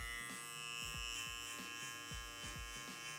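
Electric hair clipper buzzing steadily during a taper haircut, close and quiet, with a sustained hum and faint periodic changes in tone as the blade is adjusted and moved through hair.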